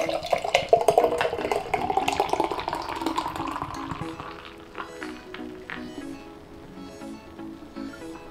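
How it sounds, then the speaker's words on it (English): Bonfire toffee stout, a 6.5% beer, poured hard and fast into a glass: a loud gushing splash in the first few seconds that thins into fizzing and light trickling as the pour settles. "So, pour hard and fast."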